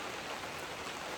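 Rain falls in late winter onto a hoop house in the Pacific Northwest, a faint, steady patter and hiss that runs on evenly with no voices.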